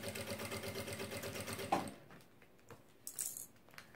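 A sewing machine stitches together lining and main fabric in a fast, rhythmic run of close, soft stitching for about two seconds, then stops, followed by faint clicks and handling noises.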